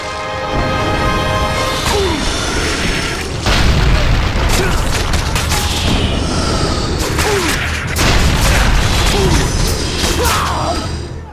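Heavy booms from enemy ships and a ballista firing in God of War: Chains of Olympus land in a steady sequence over a dense battle din, with someone talking over it.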